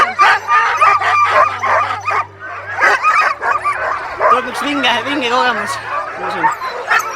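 Sled dogs at a Fjällräven Polar 2016 arctic expedition team camp yip, bark and whimper excitedly in a noisy overlapping chorus close by, while a person talks over them.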